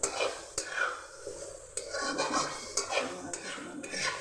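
Meat masala fries in a wok under a soft sizzle, with a spatula scraping and clinking against the metal at irregular intervals, close by and without talk.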